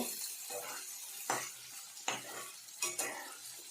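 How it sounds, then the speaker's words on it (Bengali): Onion greens and bay leaves sizzle in oil in a pan for a tilapia curry, with several scraping stirs of a spoon cutting through the steady frying hiss. "পেঁয়াজের গাছগুলো দিয়ে দিলাম, অল্প নেড়ে চেড়ে নেব।"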